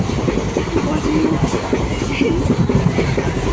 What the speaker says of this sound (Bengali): ট্রেনে উঠলাম